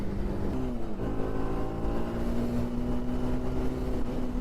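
A BMW G 310 RR motorcycle engine hums steadily under throttle while riding, with a droning tone that dips briefly near the start and then holds even and fairly loud against continuous wind and road noise.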